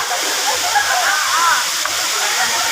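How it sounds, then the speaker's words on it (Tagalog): Bato Spring Falls, a waterfall at a spring resort in San Pablo, Laguna, roaring in a steady broadband rush close by, with faint voices beneath. "Spring Falls, Bato Spring Falls."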